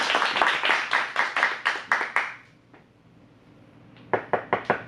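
A small audience at an adult improv class in an acting studio claps in sharp, rhythmic bursts, goes quiet briefly, then resumes with a few loud, distinct claps.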